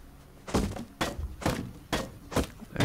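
Hatchet blows landing on a structure in the game Rust, five heavy thunking impacts at an even pace about half a second apart, loud and close with no talk.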